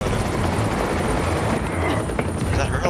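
A helicopter in Batman: The Telltale Series, its steady rotor drone filling the scene as a loud, continuous layer beneath game action and spoken commentary.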